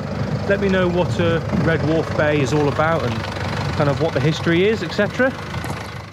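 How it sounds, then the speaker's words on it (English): A parked camper van's engine runs in the background, a low steady mid-pitched drone under continuous close talking by people nearby. "I do apologise about the engine noise in the background"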